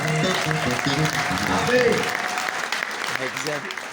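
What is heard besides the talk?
church congregation applauding for the Lord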